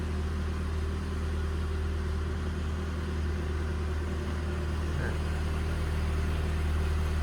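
A 1999 Rover 420i manual hatchback engine idles steadily and quietly, a smooth low hum that stays even and unbroken for the whole stretch with no voices over it.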